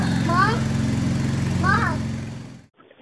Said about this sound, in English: Freaking lawnmower.